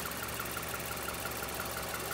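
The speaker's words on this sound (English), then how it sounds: "Here's an engine." A 2011 Mazda CX-7 engine idles with an even, rhythmic mechanical hum and faint ticking, continuous and close, with no other sounds.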